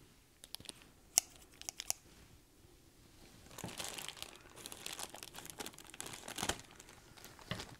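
Scissors snip with a few sharp, quiet clicks, then crinkly plastic packaging rustles and crackles close by as an ASKAR 103 APO triplet refractor telescope is cut free.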